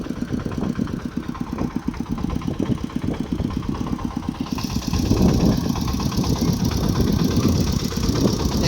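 A farm tractor engine chugs steadily with a low rhythmic knock, growing slightly louder and rougher about halfway through, with no voices, in rural southern Laos.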